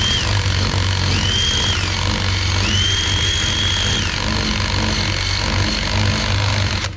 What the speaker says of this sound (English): you're gonna have to use an eraser wheel.